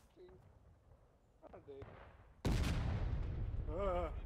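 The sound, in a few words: cannon fire in the video game War of Rights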